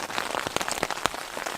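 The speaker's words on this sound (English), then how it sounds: "It's supposed to rain, as it is right now." Rain falls on a tent beside Steel Lake, a dense patter of close drops tapping the fabric in quick irregular bursts, with no voices.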